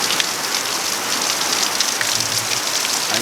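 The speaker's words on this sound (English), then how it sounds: "I'm just hoping the rain settles down just a little bit" Steady rain pours down outside, a loud, dense hiss of drops spattering on surfaces without a break and with no voices.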